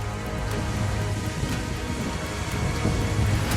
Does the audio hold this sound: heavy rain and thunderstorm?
yes